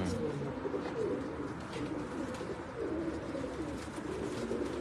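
Pigeons on a rooftop loft in the UAE coo continuously, overlapping low rolling calls over a dense steady background.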